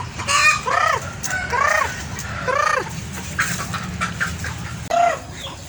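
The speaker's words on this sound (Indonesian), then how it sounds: "Itu anak ayam siapa itu bunyi tuh?" Chicks cluck and cheep repeatedly at close range in a busy, irregular series of calls, with a low rumble underneath.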